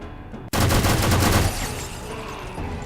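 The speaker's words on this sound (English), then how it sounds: "Stringing together headshots." A sudden loud burst of gunfire from the strategy video game XCOM 2 erupts after a brief lull, then fades into a lingering rumbling tail.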